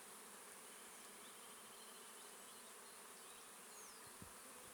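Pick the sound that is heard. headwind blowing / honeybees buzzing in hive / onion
honeybees buzzing in hive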